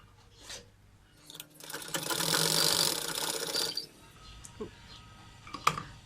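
A sewing machine stitches a hidden pocket into a salwar, its motor whirring in one sustained burst of a couple of seconds, surrounded by quiet handling clicks and fabric rustles.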